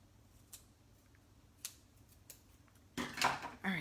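Scissors snip paper for a handmade card in a few sharp, isolated cuts close by, ending in a denser, louder burst of cutting and rustling.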